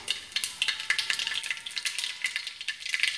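Mustard seeds crackle and sizzle in hot oil in a pressure cooker while upma is being made, a dense, steady fry with rapid popping spatters throughout, close and fairly loud.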